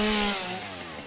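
A chainsaw in the video game Satisfactory gives off a brief buzzing engine whine. Its pitch and loudness sag downward over about a second as it winds down.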